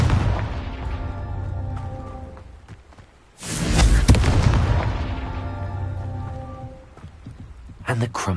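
A Confringo fire-blast spell explodes in a wizard video game, one sudden loud boom that swells into a long crackling roar and fades over several seconds against background music.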